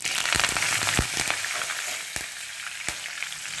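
Cumin seeds, asafoetida and curry leaves hit hot oil in a pan for a ridge gourd dish, giving a loud close sizzle with sharp popping crackles scattered through the spluttering hiss.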